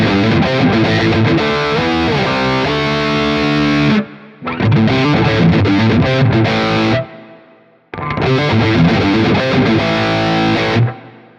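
Loud, distorted electric guitar chugging through a Quad Cortex with a Tube Screamer-style overdrive tightening the gain, with two short breaks of silence between phrases.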